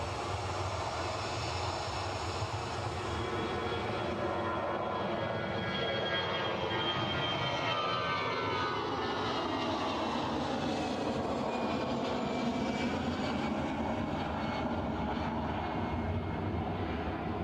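A British Airways airliner lands at Edinburgh, its engines a loud, steady roar heard up close that shifts slowly in pitch throughout, with no talking.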